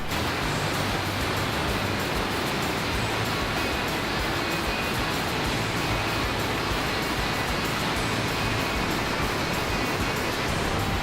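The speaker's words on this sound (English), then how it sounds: "Christine Falls is a beautiful waterfall just off the side of the road." A roaring waterfall, Christine Falls beside the road in Mount Rainier National Park, pours out a steady, dense wash of white noise that holds unbroken throughout, with no voices.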